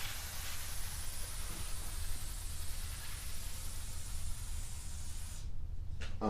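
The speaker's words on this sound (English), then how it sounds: "We're just going to spray the chain down." A continuous aerosol hiss of lubricant sprayed onto a garage door chain, close and steady for several seconds, then cutting off abruptly with a few faint clicks afterward.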